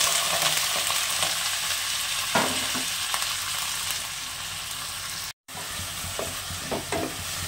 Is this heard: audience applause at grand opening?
no